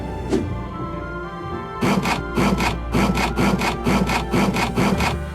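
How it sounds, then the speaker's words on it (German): A saw cuts through wood in the video game Dark Tales, one short scrape followed after a pause by a run of about ten quick, even back-and-forth strokes, close and loud. "Mit der Säge."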